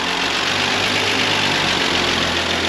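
A 1947 Ford pickup engine runs steadily after its first start, a close, loud, continuous idle with a rough broadband roar and no talking.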